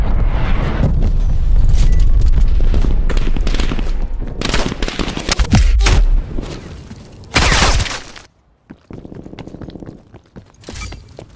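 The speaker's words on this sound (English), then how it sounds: "Incoming artillery" Artillery strike barrage in the video game Call of Duty: Black Ops Cold War, with loud dense rapid blasts and gunfire for about eight seconds, a sharp cut, then a quieter pulsing rattle and a final burst.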